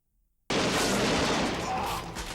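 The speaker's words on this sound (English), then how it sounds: "More explosive gunfire." Explosive gunfire from an action scene in the James Bond film GoldenEye bursts in after a half-second of silence, then holds as a loud, dense, continuous roar of shots for nearly two seconds.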